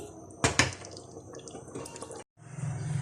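Brief splashing and trickling of water poured into a cooking pot of beef paya curry, with a couple of sharp splashes early, a short gap, then a softer running pour.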